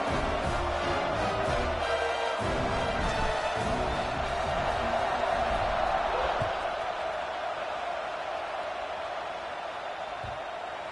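Steady roar of a football stadium crowd at a college game before a kickoff, a dense wash of cheering that holds for the whole stretch and eases off slightly toward the end, with no clear voice on top.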